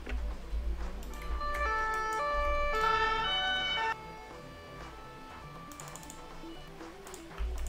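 Ambulance siren in the Emergency 4 rescue game, a loud, steady wailing tone that sweeps up and down over a low engine rumble, then drops to a quieter level partway through.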